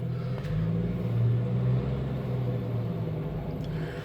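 Engine of a Jeep YJ idling and rumbling steadily as it backs up in reverse, a low, close, continuous drone with a slight swell in the middle.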